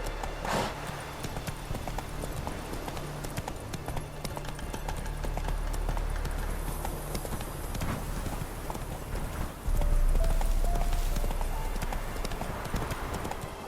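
Horse hooves clip-clop at a gallop in The Witcher video game, a steady loud rhythmic pounding with game ambience behind it and brief horse snorts, no speech over it.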